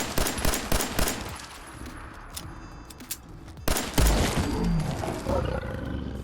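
A 1911 pistol fired in Fallout 4, a quick rhythmic string of loud close shots, then a pause and a reload clatter followed by more heavy gun noise.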